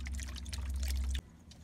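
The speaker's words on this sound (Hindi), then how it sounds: "इनको मैं पानी डाल लेता हूँ" Water is poured out for pet birds, a steady gushing pour heard up close that stops abruptly, followed by faint drips.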